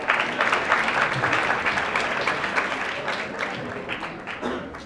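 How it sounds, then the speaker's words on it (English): A crowd at a candidate forum applauds mayoral candidate Jim Kennedy, steady and fairly loud clapping from many people that slowly tapers over about five seconds. "let's give a round of applause for Mr."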